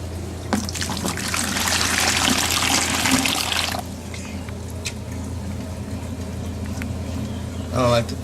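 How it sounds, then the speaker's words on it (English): Water pours from a bucket into an aquarium with a steady, close splashing rush for several seconds, then stops, followed by quieter trickles and handling sounds. "I don't like pouring them from that height."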